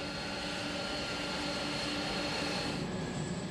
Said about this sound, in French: La première étape du voyage la conduit à l'aéroport de Francfort